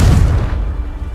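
A Confringo fire spell bursts in Hogwarts Legacy with a short, punchy low boom, close and loud, followed by a brief rumbling tail.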